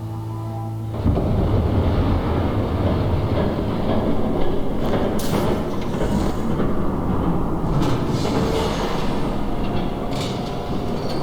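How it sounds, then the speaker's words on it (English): A passing train in the Batman Telltale Series video game, Episode 3, makes a loud, continuous rumble with rhythmic clatter from the rails and metallic squeals and clanks on top. No voices are heard. "There's a train coming."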